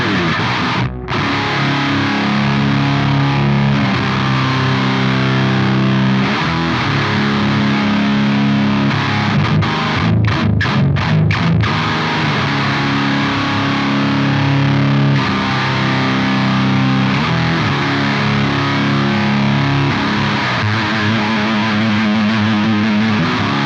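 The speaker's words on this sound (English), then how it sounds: "Now, let's kick on the HM-2." Boss HM-2 distortion pedal modelled on a Helix into a Soldano SLO-100 amp, played on electric guitar: a dense, saw-edged high-gain roar of sustained chords with a quick burst of choppy palm-muted stabs midway, loud and continuous.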